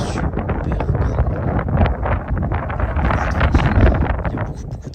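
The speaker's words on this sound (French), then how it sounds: "Il y a beaucoup de vent." Strong wind buffets the microphone atop a tall fire truck outdoors, a loud continuous roaring rumble with gusty swells and no break throughout.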